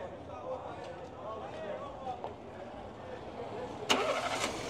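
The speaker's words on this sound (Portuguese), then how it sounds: "o amigo vai dar partida aqui no motor para a gente escutar o carro aqui" A Fiat Palio engine cranks and catches, then settles into a low, quiet idle with a faint murmur underneath.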